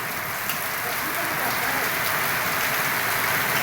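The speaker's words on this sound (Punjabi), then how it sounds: "ਪੰਜਾਬ 'ਚ ਬਹੁਤ ਵਧੀਆ ਮੀਂਹ ਪੈ ਰਿਹਾ" Steady, heavy monsoon rain in Punjab pours down without a break, a dense hiss of drops hitting surfaces close by.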